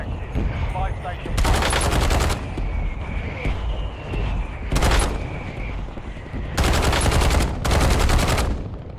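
Call of Duty Warzone gunfire rattles in four sharp automatic bursts, loud and close, separated by gaps of quieter ambience and a faint voice in the background.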